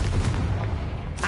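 A Confringo spell in a Harry Potter video game lets off a single loud, deep booming blast that fills the whole moment before a brief fading tail.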